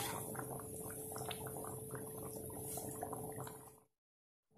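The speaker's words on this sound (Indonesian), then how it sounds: "kuahnya sudah mendidih ya" Fish and coconut broth (kuah pliek) with tilapia boiling in a pot, close soft bubbling and popping under a faint steady hum, ending abruptly in silence near the end.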